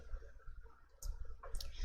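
Mouse clicks at a computer while working in an Excel spreadsheet, two or three quiet, close clicks against faint room noise.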